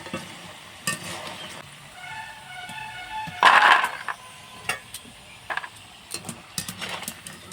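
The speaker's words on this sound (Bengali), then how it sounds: "তো বাদ বাকি যে কটা আছে সে কটা আমি ভেজে নিচ্ছি।" Potato french fries sizzling and frying in a pan of hot oil, with occasional stirring scrapes and one louder clatter midway, the sizzle steady and close with no talk.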